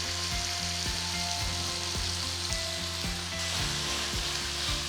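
Chutney ingredients with salt sautéing in a pan, a constant close sizzle punctuated by regular spatula scrapes and taps about every half second, no one speaking.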